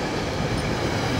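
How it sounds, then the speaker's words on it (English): A SEPTA regional rail train passes close by as a loud, steady broadband rumble and rush that fills the short moment without pause. "that's that beloved SEPTA"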